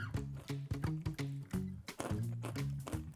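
Loud, close crunching from chewing candied peanuts, hard and brittle, in steady repeated bites with a moist, squishy texture.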